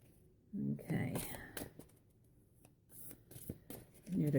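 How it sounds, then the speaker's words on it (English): A deck of tarot cards is shuffled by hand in short bursts of riffling and sliding card sounds, close and soft, alternating with quiet whispered talk. "Need a good shuffle."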